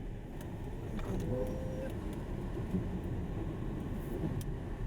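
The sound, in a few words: BYD Atto 3 electric car driving in eco mode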